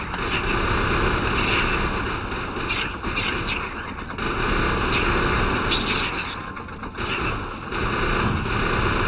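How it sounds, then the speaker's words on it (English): Sustained rapid machine-gun fire in the video game Factorio, a dense continuous rattle of shots with brief dips in intensity, loud and up close. "So I can totally fire the machine gun"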